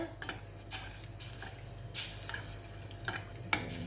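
Soft tofu stew bubbles hard in a pot, a steady sizzling, bubbling hiss broken by light clinks and stirring taps, close and quiet, with no one talking.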